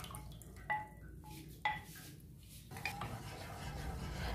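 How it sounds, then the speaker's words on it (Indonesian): Sago flour mixture stirred in a pot, a spoon scraping and clinking against the metal in a few distinct knocks, then a steadier soft scraping swirl, close and fairly quiet. "Lalu kita aduk terus sampai tepung sagu ini mengental"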